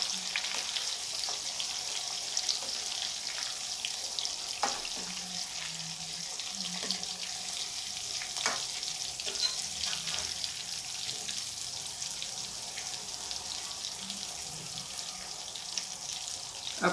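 Brinjal slices sizzle in an oil-filled pan over low heat, a faint, steady crackling hiss with occasional sharper pops, continuous and without voices.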